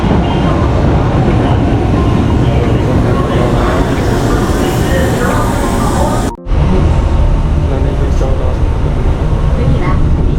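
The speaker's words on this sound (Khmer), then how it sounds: "រថភ្លើងមកដល់ហើយ" A train pulls into a station with a loud, steady rumble and rail noise that fills the whole stretch, broken only by one brief dropout partway through.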